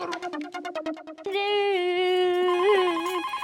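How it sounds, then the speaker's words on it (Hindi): Outgoing phone call in an Indian sitcom setting: a run of rapid electronic ring pulses, then a sustained melodic ringtone tune plays clearly on its own. "मैं अभी दया भाभी को फोन करती हूँ।"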